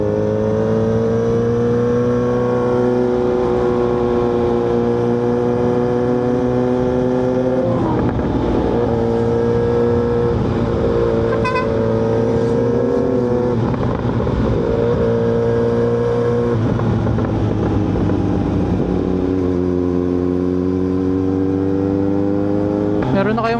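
A Kawasaki Z900RS motorcycle engine drones steadily while riding, its pitch rising and falling with throttle changes across a long stretch, with a faint voice occasionally over the engine.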